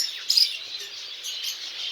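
Lovebirds and masked lovebirds chirp and tweet in quick high bursts in a zoo bird section, a busy chattering flock at moderate distance.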